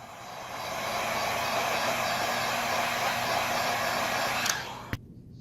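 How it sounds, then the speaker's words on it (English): Heat gun blowing hot air onto the top of an iPhone XS screen during a cracked-screen repair, a steady close whooshing roar lasting several seconds before it abruptly cuts off after a couple of faint clicks. "I'm just gonna blow a little heat on the top."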